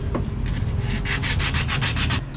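Hand file rasping on a metal part during electric fan repair, about ten rhythmic back-and-forth strokes close by, with no talking.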